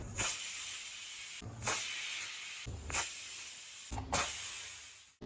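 A pressure cooker cooking pumpkin whistles, hissing steam in four long, loud bursts, each cutting off abruptly before the next.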